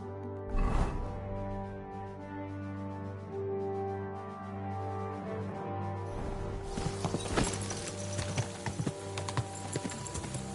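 Horse hooves clip-clop in Kingdom Come Deliverance 2, an early burst of steps, then a steady hum, then a denser run of hoofbeats toward the end, with no one talking.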